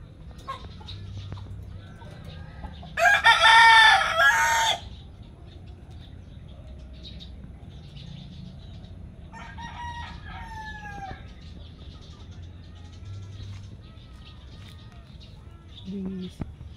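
A backyard rooster crows once, loud and fairly close, in a garden in Davao, over steady outdoor background noise, followed later by softer clucking and a faint call.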